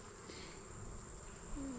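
Honeybees hum in an open hive during an August inspection, a faint, steady, even drone with no voices over it.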